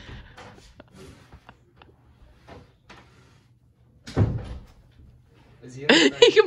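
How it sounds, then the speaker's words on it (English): A door is unbolted and opened on a school's first day, heard as a sharp clunk of the bolt followed by louder rattling at the end, with scattered knocks and bumps before it. "Unbolts the door."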